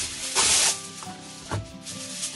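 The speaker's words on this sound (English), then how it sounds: "and a lot of cooking spray." A short burst of cooking spray hisses for about half a second onto a foil-lined baking sheet, followed by fainter hissy puffs over quiet background music.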